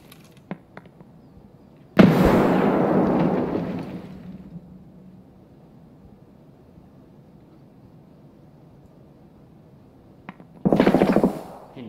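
Two grenade explosions go off in a video game: a sharp blast with a long rumbling decay, then a second, shorter burst several seconds later, both separated by near silence.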